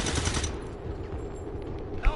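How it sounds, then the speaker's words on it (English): Overwatch gunfire in the video game XCOM: War of the Chosen, a quick burst of rapid shots followed by a rumbling echo, with a further sharp report near the end. "Got some Overwatch fire."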